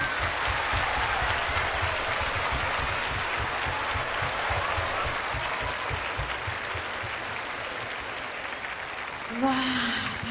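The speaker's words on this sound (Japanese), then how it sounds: "大きな拍手。" Big applause from a large crowd at a live event with BankBank, loud and steady throughout, with a voice briefly rising near the end.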